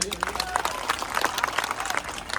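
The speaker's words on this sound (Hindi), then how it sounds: "पूरा ताली बजाइए।" Crowd of farmers at a political rally against land acquisition clapping together, dense and loud with sharp individual claps over a steady roar, voices faintly mixed in.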